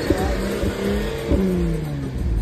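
A Kawasaki H2 superbike engine revs up in a rising, throaty sweep, drops back, then climbs again in a second strong pull, loud and close with no talking.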